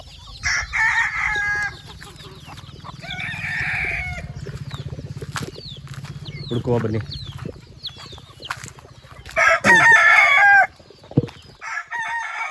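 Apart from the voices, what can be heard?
chickens clucking and rooster crowing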